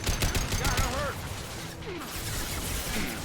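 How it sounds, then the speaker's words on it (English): Rapid gunfire from the player in Mass Effect 2 Legendary Edition, a dense stream of quick shots mixed with game effects and crackle, continuous and fairly loud throughout with faint voices in the mix. "Oh, I can shoot this fast."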